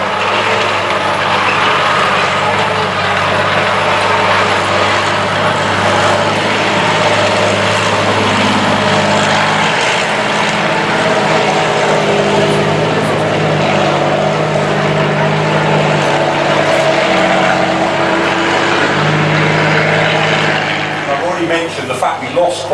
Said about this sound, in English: I'll just let you listen to the lovely engine sound.